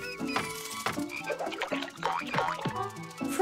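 Cartoon frogs croak in quick succession, a busy overlapping chorus of short throaty ribbits, close and clear with no talking.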